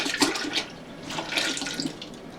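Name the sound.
pouring two quarts of milk into soup pot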